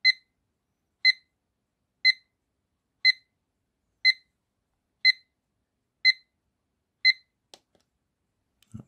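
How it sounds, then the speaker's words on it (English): An Acctim LCD projection clock sounds its alarm, a steady series of eight sharp electronic beeps at one-second intervals, close and clean in silence, then a couple of small clicks and handling noises as it stops. "Okay, it's a different alarm tone,"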